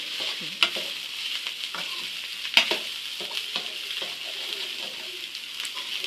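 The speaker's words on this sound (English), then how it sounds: "So you go ahead and stir. You stir it until everything has been mixed up" Fried rice with mixed vegetables is stirred in a hot pan, a steady sizzle running under irregular spatula scrapes with two sharper clanks against the pan; no voices.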